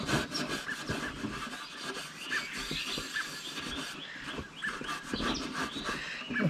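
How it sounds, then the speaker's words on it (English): A brush scrubs grime off a mechanical fuel injector from a 1971 Mercedes-Benz in a continuous, close, fairly loud rasping, with quick back-and-forth strokes and no voices. "so we'll just keep scrubbing"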